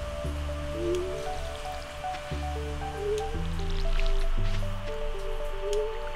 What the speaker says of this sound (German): Achso, ich muss ja noch gießen.